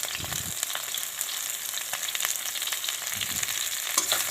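Onions sizzling in hot oil alongside pork in a pan, cooked without turmeric or spice masala, a steady close frying hiss with occasional stirring scrapes and no talk.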